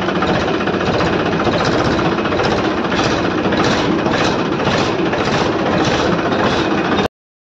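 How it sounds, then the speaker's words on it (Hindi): A tractor engine runs loud and close during farm work for rice threshing, a steady heavy throb with a rhythmic knocking pulse, cutting off abruptly near the end. "दोस्तों ट्रैक्टर में बैठ गए हैं और ट्रैक्टर को स्टार्ट भी कर लिए हैं"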